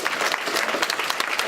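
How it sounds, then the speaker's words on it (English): A brief burst of steady, close audience applause at the UCSB Ask a Student Veteran conference, dense clapping filling the whole moment. "please give her a round of applause."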